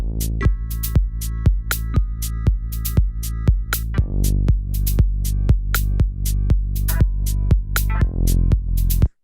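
A loud synthesizer plays a driving sequence of punchy, bright notes with sharp attacks, repeating rhythmically without pause.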